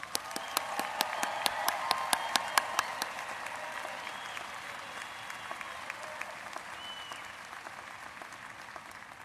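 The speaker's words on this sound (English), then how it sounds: "join me in a loud round of applause for these students and graduates" Applause for graduates at a spring university commencement ceremony: a broad wash of clapping from a large, distant crowd, dense and steady at first, then slowly thinning and fading over nine seconds.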